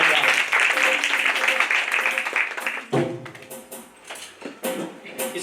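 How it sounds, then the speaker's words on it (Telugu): A church congregation at a Friday service claps to welcome a brother, a loud wash of applause that breaks off about halfway, followed by a few scattered claps and some voices. "అందరూ కూడా చప్పట్లు కొడుతూ ఆయన ఆహ్వానిద్దాం."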